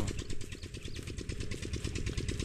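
An engine-driven water pump drawing from a drying creek runs with a steady, rapid pulsing chug, moderately close and on its own.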